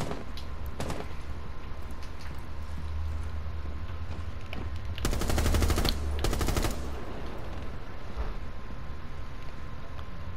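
Video game gunfire while shooting down an enemy, with scattered single shots and then a loud sustained burst of rapid machine-gun fire lasting a couple of seconds.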